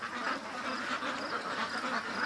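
Ducks at a lake quack in a dense, continuous chorus of overlapping calls at moderate distance. The rhythm is busy and uneven, and no voices cut in.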